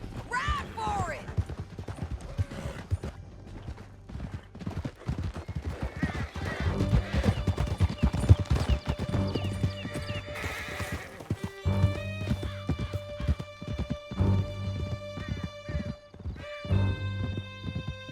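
Horse hooves clattering in a gallop through a canyon in Red Dead Redemption 2, a steady rapid clip-clop with occasional whinnies, mixed with game music and voices talking.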